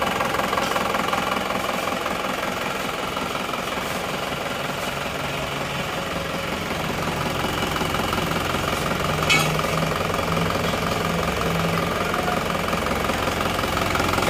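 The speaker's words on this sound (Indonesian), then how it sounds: "Suara mesin kedengaran halus ya" An Isuzu Panther diesel engine runs steadily after an overhaul with new liners, a close, even idle with a rhythmic knocking clatter and a low hum throughout.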